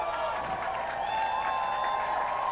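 Crowd at an ultimate frisbee game between Phoenix and Toronto, cheering and clapping during a free T-shirt giveaway, a fairly faint, steady roar beneath commentators' talk.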